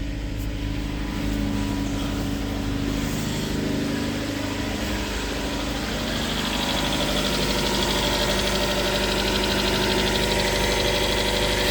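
A car engine idles steadily nearby with a low, even rumble and a faint rattling vibration throughout.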